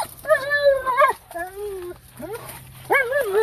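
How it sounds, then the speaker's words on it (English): A dog whimpering and squeaking in excited, rising and falling high-pitched whines, close by, in several bursts with short pauses, under a steady low hum. "Oh, you squeaky doggy."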